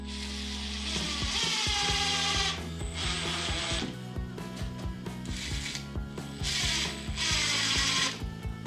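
A power driver sets screws at an angle through the plastic of an LED light batten in a garage, with repeated whirring and ratcheting bursts that start and stop, loud and close, with no talking.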